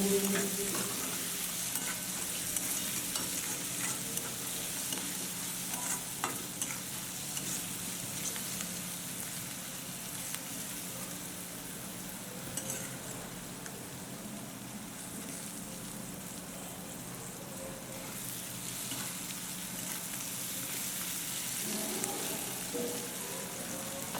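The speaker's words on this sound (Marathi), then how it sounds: "आता आपण याला चांगल्या प्रकारे मिक्स करून घेऊ" Spiced potato bhaji mixture with salt and coriander leaves frying in a pan: a steady, soft sizzle with occasional stirring scrapes, continuous and fairly quiet throughout, with no talking.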